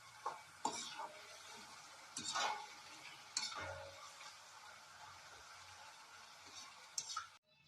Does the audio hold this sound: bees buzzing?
no